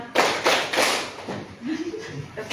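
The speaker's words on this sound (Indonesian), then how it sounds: "Tepuk tangan anak-anak." Children clap their hands together in a room, a dense, ragged burst of applause in several rolling waves, fairly close and loud, with some voices mixed in.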